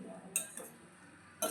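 A spoon stirring a homemade hair oil mixture in a bowl, heard as a few faint, sharp metallic clinks spaced apart against a quiet background.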